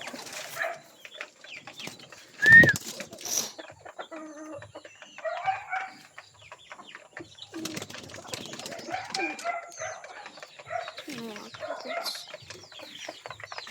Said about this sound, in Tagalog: Ito mga kalapatids oh. Mabait ito mga kalapatids.